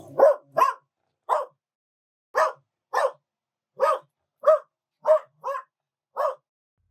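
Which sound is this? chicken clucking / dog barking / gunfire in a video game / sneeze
dog barking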